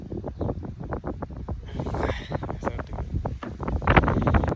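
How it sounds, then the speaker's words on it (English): Gusty wind buffets the microphone in rapid, irregular low thumps and rumbles, loud and close, with no voices. "It's a bit windy."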